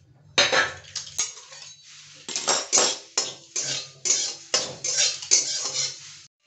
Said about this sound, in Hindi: पहले जो सूखा मसाला लिए थे उसको मैंने फ्राई कर लेती हूँ